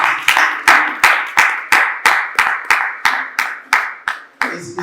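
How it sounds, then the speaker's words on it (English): Audience at a business gathering claps for a panel, a slow, evenly spaced series of single sharp claps, about a dozen in a steady rhythm, close and distinct. "please clap for the panel"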